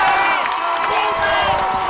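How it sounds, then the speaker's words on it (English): Football crowd at a high school rivalry game between Cleveland and Walker Valley cheering wildly after a catch, a loud, dense roar of shouts and whoops sustained throughout. "And this crowd is going wild."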